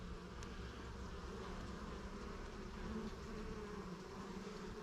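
Honey bees hum around an open two-queen hive, a faint, continuous, even drone with no breaks.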